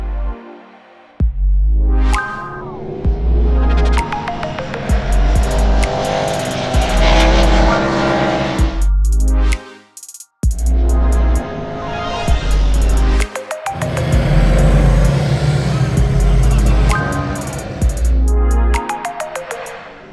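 A 2025 Ducati Streetfighter V4S's 1,103cc Desmosedici Stradale V4 engine roars loudly, climbing through gears in repeated surges with brief drops between them, close and without speech.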